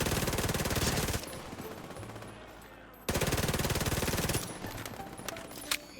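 Rapid automatic fire from the player's weapon in The Division 2, two long sustained bursts of loud, close, evenly spaced shots separated by a short pause.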